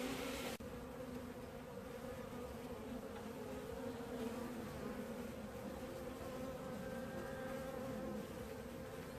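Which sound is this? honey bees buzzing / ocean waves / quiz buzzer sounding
honey bees buzzing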